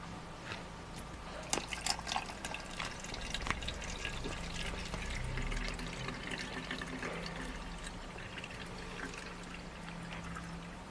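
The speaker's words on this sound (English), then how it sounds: "we're going to fill up our container with the water" Deionised water pouring steadily into a container, a soft continuous trickle and splash with a few brief clinks, fairly quiet and without speech.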